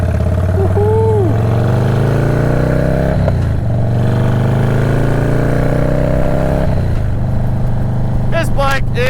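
A Harley-Davidson Dyna Low Rider S motorcycle engine is heard while riding, a steady loud rumble whose pitch rises through the gears with brief shift drops, up close throughout.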